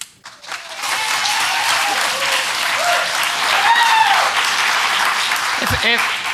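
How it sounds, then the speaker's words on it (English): A crowd at a board meeting applauding steadily at close range, dense clapping that holds for several seconds with a few voices and whoops mixed in. "If we could keep the clapping down to a minimum"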